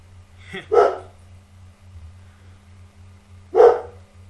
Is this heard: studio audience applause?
no